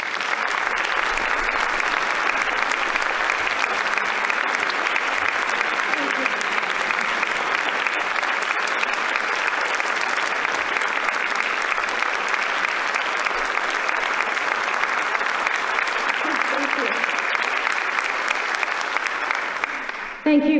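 A lecture audience claps steadily and fairly loudly to welcome the speaker, a dense, unbroken wash of hands that holds an even level for about twenty seconds before trailing off at the very end.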